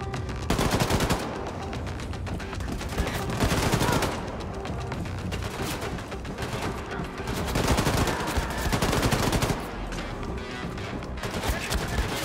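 Dual-wielded submachine gun and rifle firing in Wolfenstein II: The New Colossus, long dense bursts of rapid automatic gunfire repeating in waves with brief lulls, loud and continuous.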